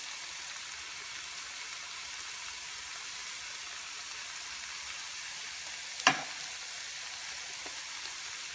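Ivy gourd (tindora) cooking in a pan with sugar and coriander, giving a steady soft sizzling hiss throughout, broken once by a brief clatter of a spoon against the pan.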